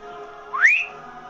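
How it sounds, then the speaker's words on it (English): A single short rising whistle, clear and close, sliding upward in pitch and fading after about half a second against quiet background. "he turned calmly to whistle up their steeds"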